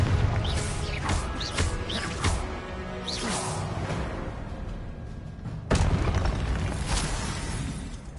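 In Hogwarts Legacy, a Confringo blasting spell erupts in rumbling booms with whooshing fiery bursts, a continuous loud wash of explosions capped by another sharp blast partway through.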